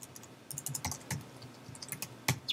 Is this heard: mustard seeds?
no